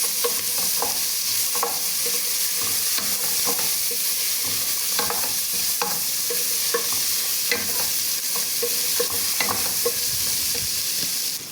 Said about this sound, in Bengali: আমার পেঁয়াজটা যদি হালকা একটু ভাজা হয়ে যায়